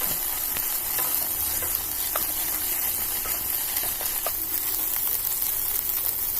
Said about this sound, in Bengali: এই মশলাগুলো ভালো করে ভেজে নেব যতক্ষণ না মশলাতে কাঁচা গন্ধ ভাবটা চলে যাচ্ছে